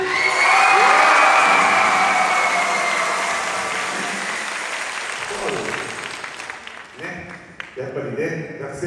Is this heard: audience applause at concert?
yes